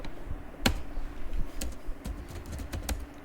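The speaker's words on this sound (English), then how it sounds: "I'm just typing create purchase." Keys clack on a computer keyboard in a few sharp, uneven taps, close and clear over a faint room hum.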